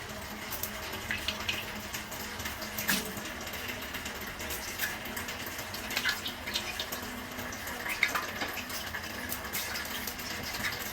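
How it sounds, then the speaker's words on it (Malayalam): Coconut oil is poured into a pan while cooking a beef leg curry, heard as a soft steady liquid pour with light trickling and small splashy peaks, fairly quiet and unaccompanied by talk. "അപ്പോൾ നമുക്ക് ആദ്യം ഇതിലേക്ക് വെളിച്ചെണ്ണ ഒഴിച്ച് കൊടുക്കാം"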